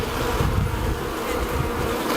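A dense, steady buzzing of many honey bees in brood comb being extracted from a large log, close and continuous, with no voices.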